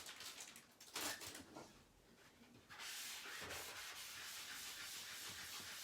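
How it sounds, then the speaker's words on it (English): A felt board eraser rubs chalk off a chalkboard, starting with a few short scrubbing strokes and then settling into steady, close, continuous rubbing that lasts to the end, with no talking. "I'm going to grab a board eraser here."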